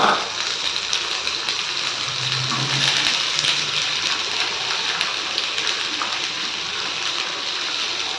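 Onions sautéing in a pan for sorrel leaf kadaisal, producing a loud, continuous sizzle with a dense hiss close by and no one talking.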